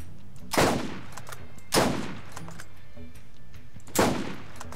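Gunfire from a weapon in the shooter Borderlands while fighting through a tunnel. Three sharp, loud shots ring out at uneven intervals, each trailing a short echo, over a low background hum.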